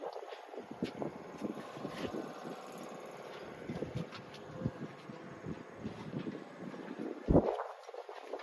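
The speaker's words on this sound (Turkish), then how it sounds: "Çok rüzgar var. Rüzgar sesi gelebilir." Gusty wind buffets the microphone outdoors beside a Challenger Jullien Europe '82 boat under refit, uneven rumbling bursts with a louder thump near the end.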